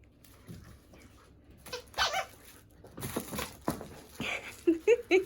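A dog romps with a big squeaky toy nearly her own size, with crinkling, scuffling and a few high squeaks near the end, irregular and close, with faint human sounds in the background.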